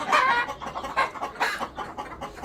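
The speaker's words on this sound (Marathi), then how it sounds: "या सर्व कोंबड्या आहेत," Country hens on a poultry farm cluck in quick repeated bursts, loud and close, with no talk over them.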